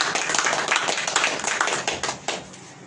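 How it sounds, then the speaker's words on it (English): A crowd at a press briefing claps loudly, with dense overlapping hand claps that thin out into a few separate claps near the end. "Can we give them a clap, the distinguished ladies and gentlemen?"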